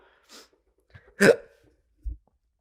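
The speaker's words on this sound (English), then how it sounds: "I'm having anxiety hiccups." Three short hiccups from a young adult, a soft one followed by a loud, sharp one and a quieter last one, spaced apart with silence between them and no talking.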